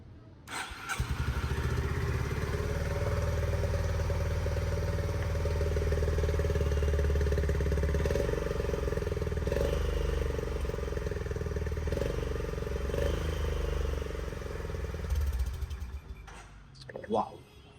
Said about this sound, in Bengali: এই বাইকটার সাউন্ডটা কেমন সেটা একবার আমাদের শুনিয়ে দেওয়া যাক